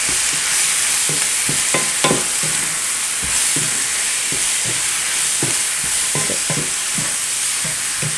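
Chicken curry sizzles in a wide pan while a spoon stirs it, with repeated scraping strokes over a steady frying hiss, close and fairly loud, and no talking.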